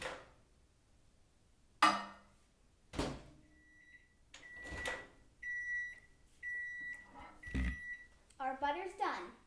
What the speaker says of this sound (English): we're probably gonna put the butter in the microwave for about a minute, half power